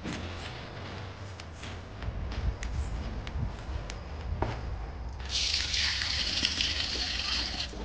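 Water splashes and hisses onto soil and leaves, starting partway through and continuing steadily over faint outdoor background noise.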